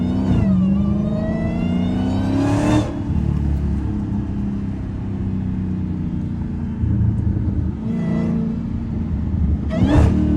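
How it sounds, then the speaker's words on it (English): Dodge Hellcat in sport mode, driving in snow, engine rumbling loud and close as it revs up sharply, then drops through downshifts with rising blips and a deep burbling idle between pulls. "There go them downshifts."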